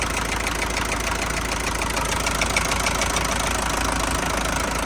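A FOTON-LOVOL TB-454 tractor engine idles smoothly and quietly, a close, even diesel rumble with a faint steady knock that holds unchanged throughout.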